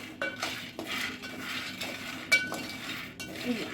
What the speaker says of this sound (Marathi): मंद गॅसवरती आपल्याला शेंगदाणे भाजून घ्यायचे आहे मीडियम टू लो गॅस भाजून घ्यायचे शेंगदाणे